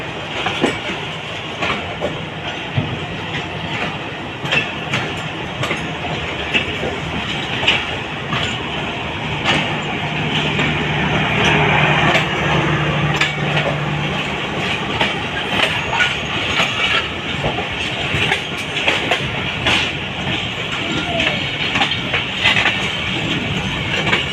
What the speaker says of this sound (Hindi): और ये GU40 की ज़बरदस्त पिकअप